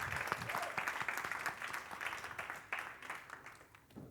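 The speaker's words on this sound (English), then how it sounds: "can we give a warm round of applause for our panelists?" Audience applause for conference panelists at an Oxfam event, a steady wash of clapping that holds for about four seconds and slowly thins toward the end.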